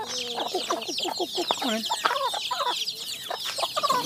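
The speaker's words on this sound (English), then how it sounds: "Time to feed the chickens." Chickens at feeding time on a chicken farm in Udon Thani, Thailand, cluck busily and continuously at close range while a person speaks briefly over them.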